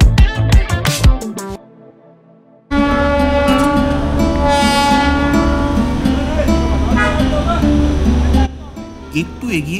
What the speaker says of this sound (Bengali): কিন্তু পাশ দিয়ে এই টয় ট্রেনের আনাগোনায় এন্টারটেনমেন্টের কোনো অভাব ছিল না